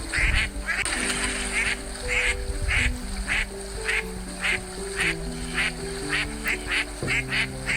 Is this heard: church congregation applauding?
no